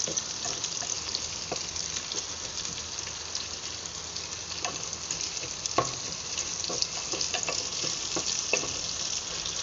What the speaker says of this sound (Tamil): இந்த காரக்குழம்பு மீன் குழம்பு இதுக்கெல்லாம் வந்து வெங்காயம் நல்லா வதங்கணும்